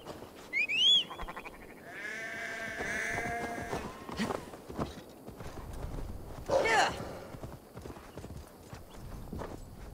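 Sheep bleating in a quiet pasture in the video game Assassin's Creed Valhalla, a few short bleats scattered over wind and soft ambient noise while a person talks over the scene.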